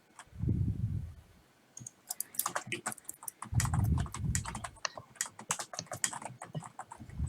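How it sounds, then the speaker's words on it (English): Fingers type rapidly on a computer keyboard, close and crisp, in uneven bursts of clacking keystrokes with short pauses between runs, alongside a few low thumps. "I hear JJ furiously typing my fortune."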